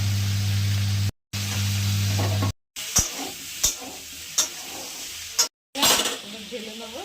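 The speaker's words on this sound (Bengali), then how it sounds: "তারপরে আলুগুলো দিয়ে দিলাম, দিয়ে ভেজে নেবো একটু।" Potatoes and cauliflower fry in oil in a pan, giving a steady broadband sizzle that starts over a low electrical hum, breaks off a few times, then continues with sharp scraping stirs.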